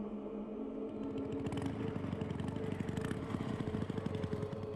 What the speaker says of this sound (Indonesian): Akhirnya motor menyala.